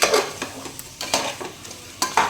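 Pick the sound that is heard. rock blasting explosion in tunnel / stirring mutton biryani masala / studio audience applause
stirring mutton biryani masala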